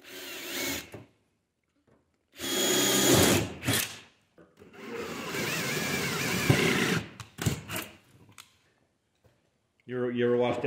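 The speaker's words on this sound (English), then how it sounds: "so I'm going to drill those out" A power drill bores holes into the door panel of an old Kenworth W900A truck. It runs in several loud, whining bursts of a second or more, separated by short pauses in a workshop.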